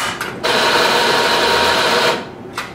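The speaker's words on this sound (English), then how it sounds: "so now I'm going to grind into my portafilter" A coffee grinder grinding espresso into a portafilter: one continuous loud, close whirring burr grind lasting under two seconds, with brief starts and a short trailing burst.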